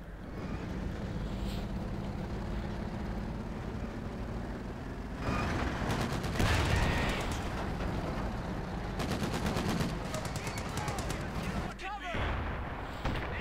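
Company of Heroes 2 match with rattling gunfire and sharp sniper shots, dense bursts of small-arms fire alongside rumbling explosions and vehicle noise, heard under ongoing commentary.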